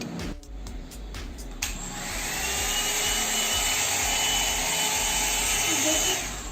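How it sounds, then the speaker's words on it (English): A steady, loud whooshing motor hum, like a hair dryer running continuously, starting after a few brief clicks and holding at constant volume. "This is Mama's hair dryer. Let's use it."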